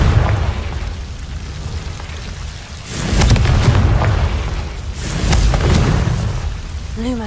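Confringo fire spell explosions in the Hogwarts Legacy video game: two loud booming bursts a couple of seconds apart, each rolling into a crackling rumble over a low ambient bed.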